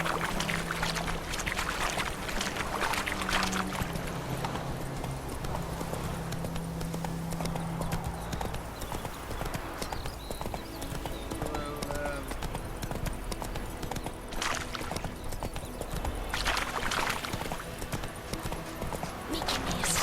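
Hoofbeats of Roach the horse galloping in the video game Witcher 3, a steady rapid clatter running throughout over a busy background of game ambience.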